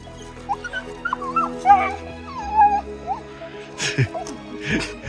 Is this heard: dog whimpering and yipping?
yes